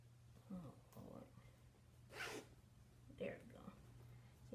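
A zipper is pulled on a sewn caftan dress with cape sleeves, giving one quick rasping zip in the middle, close and clear over a low steady hum, with soft voice sounds around it.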